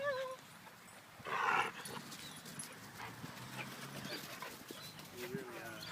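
Dogs play close by, giving a few short barks, yips and whimpers amid scuffling, while people talk over much of the sound.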